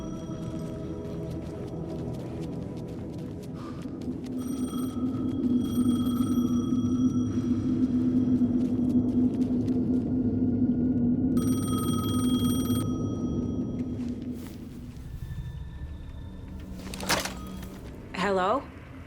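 A payphone rings in the game Alan Wake 2, its repeated electronic bell tones sounding over a low ambient drone, with a sharp clatter near the end.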